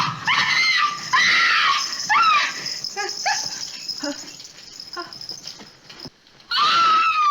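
Screams ring out in a darkly lit John Wayne Western scene, loud repeated cries and shrieks with gaps of quieter movement between, ending in a sudden burst of screaming.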